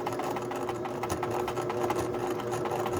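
A sewing machine stitching decorative embroidery, worked slowly around a curl, gives a steady, close, continuous mechanical whir that holds at an even level throughout, with no talking.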